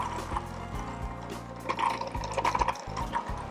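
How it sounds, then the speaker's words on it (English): Ice-cold water is poured into a running food processor holding a butter and flour dough, so a steady motor whir and blade clatter mix with quiet splashing and gurgling. "I am going to turn it all the way on, pour in my ice cold water."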